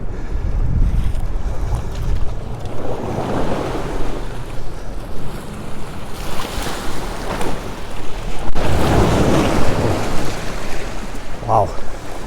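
Waves washing up on a lakeshore, surging and breaking loudly several times, with heavy wind buffeting the microphone throughout.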